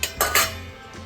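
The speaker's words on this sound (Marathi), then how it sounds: "आणि त्याच्यावर आता ही चाळण ठेवायची अशी।" A metal sieve is set down on a pot of boiled water holding turmeric leaf stems, used for steaming Malvani rice karanji. A few quick metallic clanks ring out close by, with no talking.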